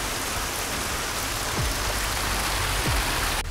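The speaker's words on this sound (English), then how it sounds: "And just like that, it's raining." Steady Florida rain pours down at a junkyard, a dense hiss of drops hitting surfaces, with a couple of faint low swooshes passing through.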